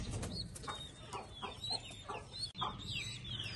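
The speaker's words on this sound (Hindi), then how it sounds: "काले तीतर भी और ईरानी तीतर भी छत पर लेकर आए हैं" Black and Iranian partridges on a rooftop give repeated sharp, chirping bird calls in quick bursts, fairly close, with faint background noise and no talk.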